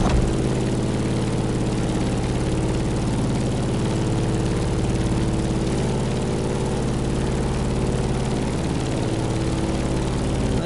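A propeller airplane in The Crew Motorfest racing game drones with a steady, heavy engine hum at a constant loud level and no noticeable change in pitch.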